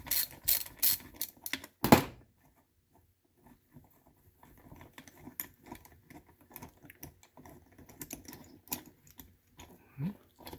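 Ratchet clicking in quick irregular bursts while bolts are removed from a tank on a Workhorse truck, close mechanical clatter with quieter scattered ticks and scrapes, no speech.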